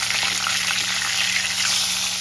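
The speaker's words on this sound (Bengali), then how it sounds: "মাছগুলোর ওপিঠ আমার লাল লাল করে ভাজা হয়ে গেছে" Pieces of rohu fish fry in hot oil in a pan, a loud, dense, continuous sizzle that holds steady close up with no voices over it.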